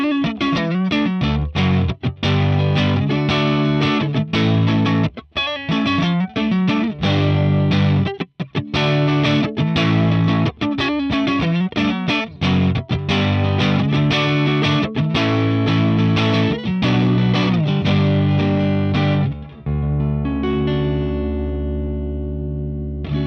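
A Stratocaster electric guitar plays a distorted riff through an ML Dizzy 4x12 cabinet impulse response, loud and close with steady strummed and picked phrases, then a sustained ringing chord to finish.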